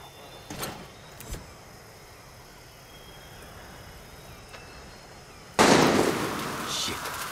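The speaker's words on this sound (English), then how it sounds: "Shit, who's shooting?" Gunfire in Far Cry 6: two sharp, distant cracks sound early over a quiet outdoor background, then a much louder, close burst of shots erupts near the end and trails off.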